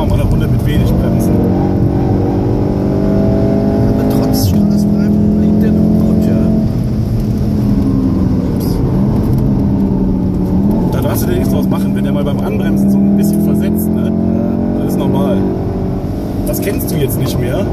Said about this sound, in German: Dann fahren wir mal eine Runde mit wenig Bremsen.